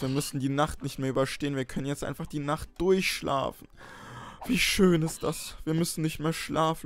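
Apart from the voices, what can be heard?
None of the usual background noises is heard.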